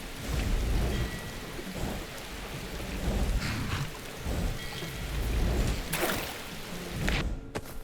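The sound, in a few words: rain falling in a video game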